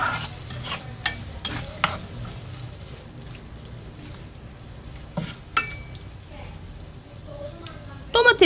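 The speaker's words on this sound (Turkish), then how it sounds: "Domatesleri diğer malzemelerle iyice karıştırıp kapağını kapatıyorum" A spoon stirs tomatoes through other ingredients in a pan, with soft scraping and sizzling and a few sharper clinks, fairly quiet and close.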